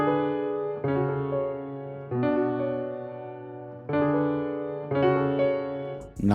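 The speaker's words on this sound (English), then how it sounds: "I started off with these keys right here from Spitfire Audio's soft piano." Soft piano keys from Spitfire Audio play a slow sequence of sustained chords, each struck gently and left to ring before the next, close and alone with no other sounds.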